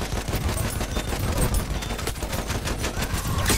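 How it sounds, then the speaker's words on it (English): Rapid, dense gunfire from a gun in the video game Battlefield 1 rattles continuously and loudly for the whole stretch, with overlapping bursts and no pause. "Shoot, come on, gun, shoot!"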